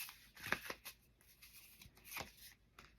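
Oracle cards from an Art Magic deck are shuffled by hand in a quiet room, producing soft papery riffles and slaps in several short bursts with small pauses between them.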